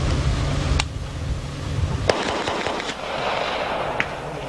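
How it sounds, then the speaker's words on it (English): A small handgun firing ammunition equal in power to a 41 Magnum, several sharp shots spaced a second or two apart, heard over a loud, steady outdoor background rumble. "I'll shoot at an angle here, realize that we're shooting ammunition that is equal to a 41 Magnum in power"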